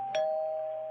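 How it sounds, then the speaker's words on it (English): A doorbell chimes once, close and clear, with a short strike followed by a sustained ringing tone that fades slowly across the second. "and then I heard the doorbell ring."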